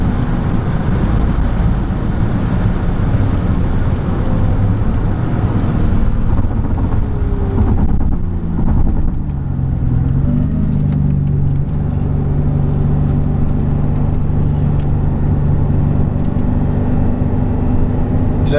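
A Mercedes-Benz E55 AMG W210 with a Kleemann 55-K2 supercharger and a misfire pulls hard in fourth gear toward 5,500 RPM, a loud, steady engine roar recorded close with wind buffeting throughout.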